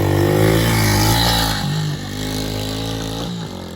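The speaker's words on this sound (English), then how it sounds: "So now we're just gonna go rip the bike and have some fun" A dirt bike, including a Honda Reflex among cheap off-road motorcycles, revs and rides up close with a loud, steady engine drone that shifts pitch as the throttle changes.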